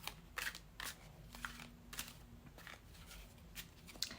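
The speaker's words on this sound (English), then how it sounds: "Let's shuffle with intention." Tarot cards are shuffled by hand, giving quiet, repeated crisp riffles and soft slaps in an uneven rhythm, close but faint, with no voices.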